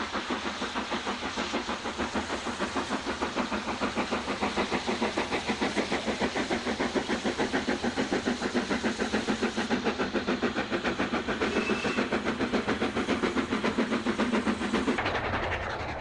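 A steam locomotive hauls a freight train past, with a steady rhythmic chuffing beat that holds constant and fairly loud throughout, with wheel and track noise underneath.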